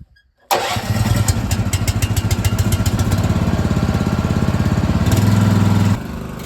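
A combine harvester's diesel engine cranks and catches after a brief quiet moment, then settles into a steady, loud, rumbling idle with an even rhythmic throb that continues to the end.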